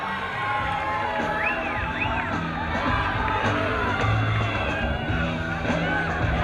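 Spectators at a youth lead climbing world championship in Singapore cheer and shout for a climber, a steady crowd roar with excited whoops and children's shouts rising over it.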